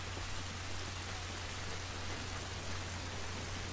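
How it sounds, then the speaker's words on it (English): Rain falls steadily outdoors in The Last of Us Remastered, a dense unbroken hiss that stays even and fairly quiet throughout, with no voices. "This rain ain't gonna do us any good."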